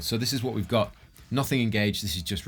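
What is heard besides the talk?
No everyday noise stands out behind the speech.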